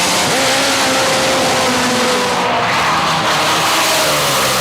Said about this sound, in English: that's a heck of a drag race